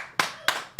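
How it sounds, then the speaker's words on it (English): Three sharp, separate hand claps about a third of a second apart, close and fairly loud, as a small group starts a round of applause for Lola at a bar. "can we all just like get a round of applause going for Lola right now?"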